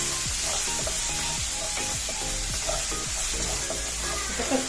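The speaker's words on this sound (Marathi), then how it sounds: "हे तेलात परतून घ्यायचे" Ingredients for patwadi sauté in hot oil in a pan over medium-low flame, a steady loud sizzle broken by repeated stirring scrapes, with no talking.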